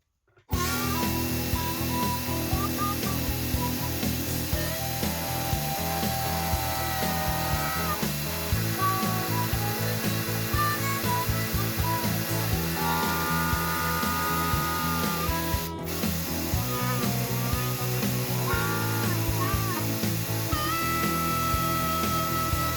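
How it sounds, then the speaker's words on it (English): A power drill with a 1/8 inch bit bores into a riveted flywheel from a vintage car, a loud continuous whine with shifting pitch as the bit bites into the metal, running nearly unbroken for over twenty seconds. "So now I'm going to get started on drilling. Now the first bit I'm going to use is a 1/8 drill bit."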